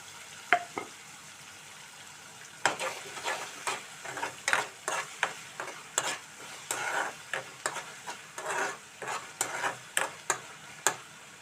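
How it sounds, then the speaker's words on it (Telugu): Something fries in oil in a pan over a low flame, soft sizzling beneath repeated stirring scrapes and light taps in an irregular rhythm, close and fairly quiet. "సిమ్లో పెట్టి వేయించుకుంటున్నానండి నేను. ఈ ఆయిల్లో ఇలా మనం వేయించుకున్నాం."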